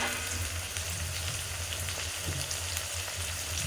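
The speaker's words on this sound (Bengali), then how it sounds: "তেলটা গরম হলে পেঁয়াজটা দিয়ে দেবো।" Onion sizzles in hot oil in a pan, a steady loud crackling fry that goes on without a break from start to end, close up with no talk.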